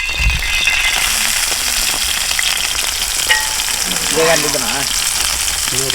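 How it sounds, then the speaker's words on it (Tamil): Mutton intestine gravy fries loudly in oil with pepper and chopped onion on a tawa at an outdoor village cook-out. A constant close sizzle runs throughout, with occasional rattles and stirring scrapes and a brief hint of voices. "எண்ணெய் ஊற்றி இந்த கிரேவியை இதாக கூட போட்டு பெப்பர்லாம் போட்டு நல்லா இப்போ வறுத்து எடுக்க பாருங்கள்"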